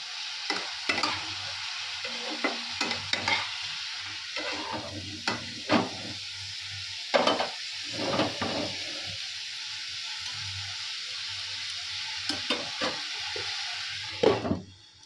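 Cauliflower and potato fry in a spiced pan with a continuous close sizzle, broken by repeated stirring scrapes and taps from a utensil.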